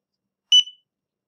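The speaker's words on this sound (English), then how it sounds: "So we're going to wait for it to stop beeping" A ZKTeco F16 biometric access control reader gives a short electronic beep, a clear high double-pulsed tone lasting about a quarter second, alone in silence.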